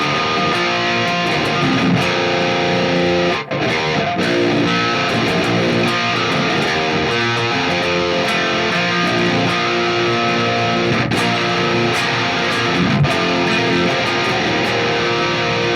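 A heavy metal electric guitar tone, thick and distorted with the midrange boosted, plays continuously and loud for the whole stretch with no talking, sustained chords ringing with brief breaks.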